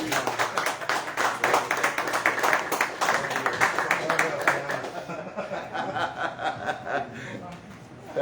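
Audience applause at a Brazilian poetry book launch evening, a steady dense patter of clapping mixed with chuckles and murmuring voices, fading slightly toward the end.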